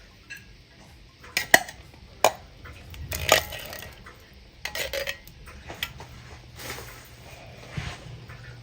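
Canned jackfruit tipped into a simmering pot of Thai red curry with pork, giving several clattering knocks and scrapes of pot and utensil at close range, with quieter bubbling and clinks between them.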